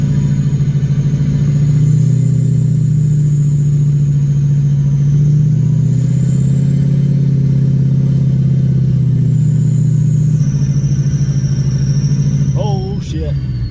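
An off-road vehicle pushes through deep snow drifts in a mountain blizzard, its engine a steady loud drone with a faint higher whine, running close and unbroken until a brief clatter at the end.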